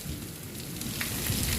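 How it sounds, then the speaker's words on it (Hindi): Heavy rain falling outdoors with big drops, a steady dense hiss and patter that swells slightly louder toward the end, no voices. "देखें कितनी तेज़ हो गई है बारिश, इतनी मोटा मोटा बूंदाबांदी हो रही है"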